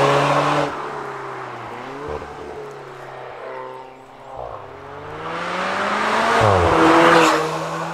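A red Alfa Romeo 4C with a carbon-fibre and aluminium monocoque chassis drives and brakes, its engine droning and shifting pitch as it slows, dips and builds again, with some tyre noise.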